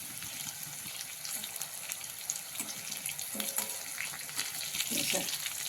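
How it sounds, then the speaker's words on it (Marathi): A spice masala fries in oil for a tangy curd-chilli dish, giving off a steady close sizzle and watery hiss with occasional stirring scrapes, and a voice speaks faintly underneath. "मसाला छान तळला जातो"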